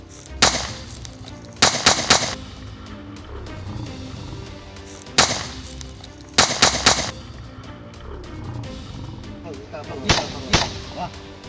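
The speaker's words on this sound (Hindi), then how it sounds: "अभी रिसेंटली जो है वो इनकी एक वीडियो वायरल हुई है जिसमें ये फायरिंग करती हुई दिखाई गई है" Firearms are fired in short volleys, heard from a played clip: loud sharp cracks come in three clustered bursts over a noisy background, with some voices underneath.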